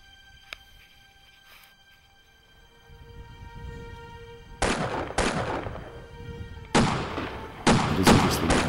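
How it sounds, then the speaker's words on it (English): Gunfire breaks out during a wartime exchange of bullets: after a quiet stretch, several sharp reports crack in quick succession, each with a rolling echo, coming in irregular bursts at moderate distance. "as bullets are being exchanged again"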